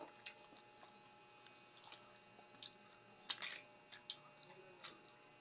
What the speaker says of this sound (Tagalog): Nguyang-nguya siya.